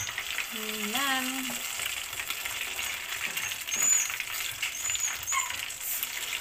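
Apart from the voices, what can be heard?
chicken with paprika frying in a pan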